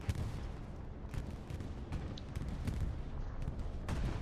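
Air-strike explosions and gunfire in Hell Let Loose at Driel's brick factory come as repeated dull booms and sharp cracks at a middle distance, scattered unevenly across a noisy battle background.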